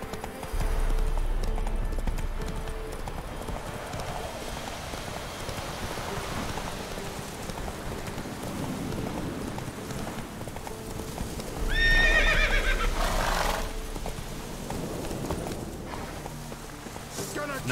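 Roach, a horse in The Witcher 3, gallops with steady rhythmic hoofbeats over rain, and a loud whinny breaks through near the end; a voice speaks briefly over the game sounds.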